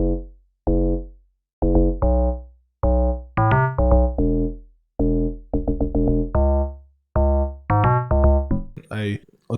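Log drum layered with a Fruity DS10 synth sub bass in FL Studio gives deep, punchy pitched hits in a syncopated Afrobeats rhythm, loud and up front, with a brief noisy swish at the very end.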